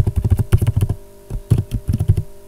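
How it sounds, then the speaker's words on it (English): Rapid bursts of computer keyboard typing, close and crisp, with quick key clicks in two short runs separated by a brief pause. "here you can type shopping cart"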